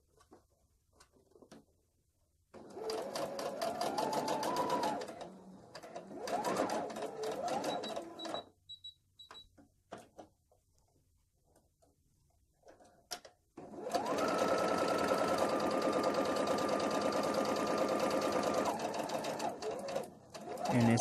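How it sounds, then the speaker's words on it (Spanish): Sewing machine stitching an aromatherapy sachet, running in two long bursts of rapid, steady whirring with a brief pause and a quieter stretch between them, loud and close with no talking. "Vamos a coser hasta el final."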